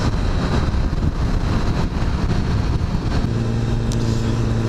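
A Kawasaki ZX-10R litre-class motorcycle on the move, its engine a constant loud roar buried in heavy wind rush over the microphone, with a steadier tone settling in near the end.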